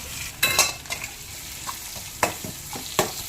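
A spoon stirs carrots, onions, curry leaves and green chillies in a pan for vegetable pithla, with several sharp scraping and clattering strokes over a low sizzle, close by and alone.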